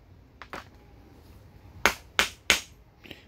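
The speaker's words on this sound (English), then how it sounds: "I'm using the butt of my handle as a hammer." Sharp metallic taps from the butt of a tool handle used as a hammer on a 1980 Suzuki TS125 motorcycle: a couple of light ones, then three hard strikes in quick succession and a faint last tap, close by.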